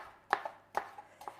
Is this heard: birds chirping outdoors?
no